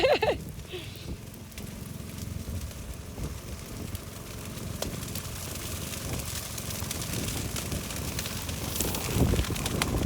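A fire burning across a farm field, with a steady roar and crackle under gusting wind noise, plus faint distant sounds throughout.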